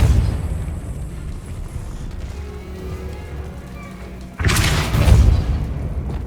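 A Depulso spell cast in Hogwarts Legacy lands as a sudden loud burst near the end, breaking over a low steady rumble of game ambience.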